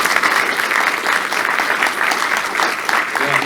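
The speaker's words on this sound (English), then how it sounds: "let's give him a round of applause" An audience at a retro gaming expo talk applauds warmly, a dense, steady wash of clapping that fills the room for several seconds without letting up.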